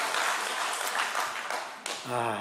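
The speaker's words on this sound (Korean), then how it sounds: "힘찬 박수를 한번 영광의 박수를 올려드리겠습니다" A church congregation breaks into vigorous applause of praise to God during a service, thick even clapping that briefly dips before a voice starts speaking over the tail end.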